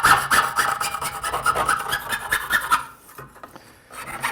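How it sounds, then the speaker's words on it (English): A jeweler's saw cuts metal braced on a wooden bench pin, rapid rhythmic rasping strokes close up and loud, stopping briefly near the end before resuming. "I'm trying to saw directly into the bench pin for the most support."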